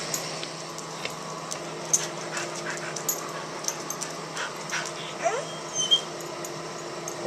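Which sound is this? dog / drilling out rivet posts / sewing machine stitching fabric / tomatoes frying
dog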